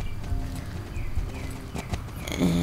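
Steady clip-clop of horse hooves as a rider moves through the Star Stable video game world, rhythmic and fairly close over a soft ambient background, with an occasional faint snort.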